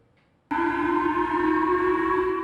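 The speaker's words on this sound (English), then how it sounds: "woke up to the sound of air raid sirens on Tuesday" A loud air raid siren wails abruptly after a short quiet moment in Okinawa, Japan, holding a steady, sustained tone with no voices.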